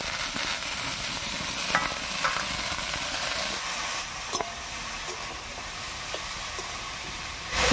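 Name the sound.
stirring banana flower with rice and potato in pan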